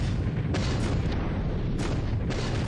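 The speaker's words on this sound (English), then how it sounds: "firing depth charges. These are the ones that do get down to the level of our sub." Depth charges explode in War in the Pacific, a dense, continuous roar of deep booms and rumbling bursts that stays loud throughout with no pauses.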